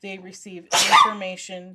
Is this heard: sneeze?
yes